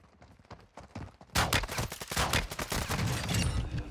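A shotgun fires in Call of Duty Warzone, opening with a quiet patter and then a loud, dense burst of rapid, close blasts that keeps going to the end, with no talk.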